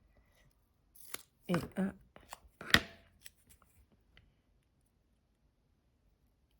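Scissors cut the edge of a paper card for a spring and Easter craft: a few close, crisp snips and rustles, with a brief quiet voice in French.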